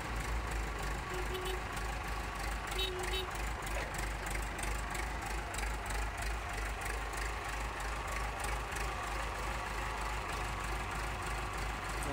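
A four-cylinder Massey Ferguson 362 tractor, 74 horsepower with four-wheel drive and a mechanical gearbox, idles with a steady, even low rumble that runs unbroken throughout.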